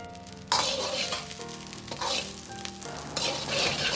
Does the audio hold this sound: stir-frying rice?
yes